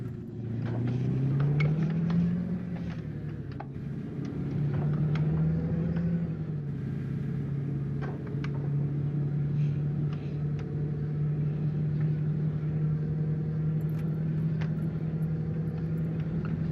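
Scania R440 truck driving on winding roads in Euro Truck Simulator 2 with ProMods, a steady low diesel engine drone that rises slightly and then holds an even rumble throughout, alone with no talk.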